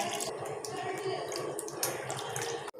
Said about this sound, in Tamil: ஒரு மூணு டம்ளர் அளவு தண்ணி சேர்த்திக்கலாங்க